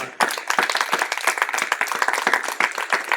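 A church congregation breaks into loud, sustained applause during a Spanish-language sermon, dense clapping from many hands with a few sharper individual claps standing out.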